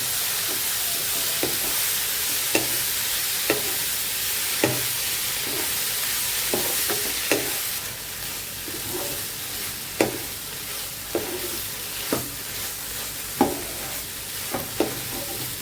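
Boiled soybean chunks, seasoned with salt and turmeric, stirred and sautéed in a pan: a continuous loud sizzle with regular spatula scrapes and knocks against the pan.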